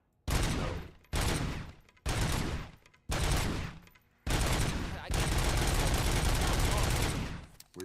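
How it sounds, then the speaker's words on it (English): Full-auto gunfire from a weapon in the video game Robocop: Rogue City, loud close bursts: five short sustained volleys separated by brief gaps, then one long unbroken stream of automatic fire. "I can just full auto this now."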